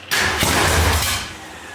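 A 1965 Ford Mustang engine cranks over briefly, a short loud burst of starter churn and rough combustion lasting about a second before it cuts off, close by with no talking.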